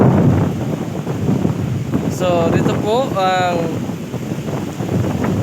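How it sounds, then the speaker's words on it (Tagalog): Strong typhoon wind buffets the microphone over the rumble of rough surf while someone speaks briefly in the middle. "malakas ang alon"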